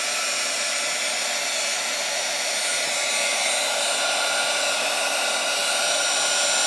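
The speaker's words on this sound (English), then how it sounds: "So she's gonna heat gun it a little bit." A heat gun blows hot air over resin in a mold, a loud, steady, unbroken rushing whoosh that holds at the same level throughout with no other sounds.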